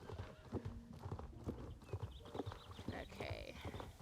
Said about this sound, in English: More horses.